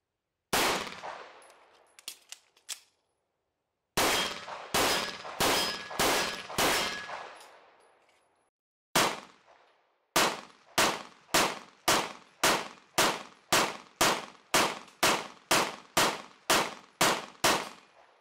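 CZ P-01 Omega pistol handled with its ambidextrous decocker, giving a run of sharp metallic clacks: scattered snaps at first, then a steady, evenly spaced series of about a dozen crisp clicks, close and clear with no talking.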